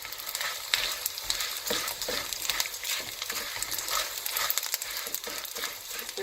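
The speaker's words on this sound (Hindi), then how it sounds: "इसको भी फ्राई कर लेते हैं। ये देखिए ये भी फूलना शुरू हो गई है।" Gondh, edible gum, frying in hot oil for punjiri: dense, continuous crackling sizzle with sharp pops and stirring scrapes, close and fairly loud, no talk.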